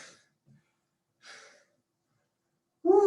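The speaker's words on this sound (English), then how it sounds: "I am breathing heavy" Heavy breathing during a bodyweight Tabata workout: a few short, breathy exhales separated by silence, close to the mic, and then a louder voiced gasp at the end.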